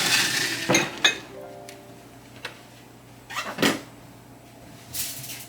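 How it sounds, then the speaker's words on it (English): A foil-covered cookie sheet pan is handled in a kitchen, giving a few sharp metallic clinks and clatters, loudest near the start and again in the middle, close by with no talk. "And I'll bring over my pan."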